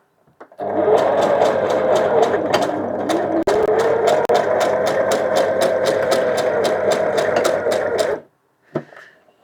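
A sewing machine stitches a backpack in one long, loud run of about seven seconds, with a rapid rhythmic chatter over a motor whir, then stops abruptly before a brief rustle.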